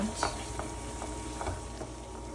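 Tomato paste for a Polish hunter's stew sizzles softly in a stew pan, with a few scraping strokes as it is stirred and a low voice faintly in the background.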